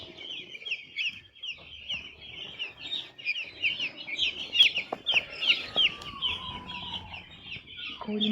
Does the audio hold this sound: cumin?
no